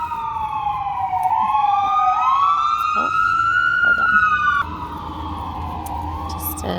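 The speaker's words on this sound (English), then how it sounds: "an ambulance driving by" An ambulance siren wails through rising and falling sweeps as the vehicle drives past, loud and close, then dropping in pitch and fading slightly as it moves away.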